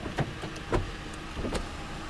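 Power window motor on a 2009 Ford Crown Victoria police car, a few short, quiet whirring bursts close by inside the cabin, with no talking.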